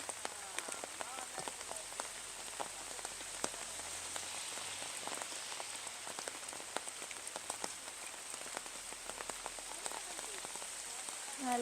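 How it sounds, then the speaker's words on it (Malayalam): Heavy rain falls steadily on surfaces during mango picking, a constant close wash of drops with scattered sharper splats and no talk over it. "നല്ല മഴയാണ്."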